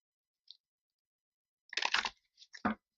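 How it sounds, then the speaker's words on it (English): Tarot cards are shuffled close up during a reading, giving a crisp riffling burst of under half a second, then a couple of quick flicks and a firmer slap. It is quiet and heard alone, without speech. "two more shuffles,"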